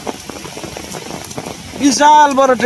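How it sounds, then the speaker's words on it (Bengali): Rain falls steadily outdoors near a railway line as a train passes, a dense close hiss of drops that continues under a voice speaking near the end. "বৃষ্টির কারণে কিছুই দেওয়া যায় না"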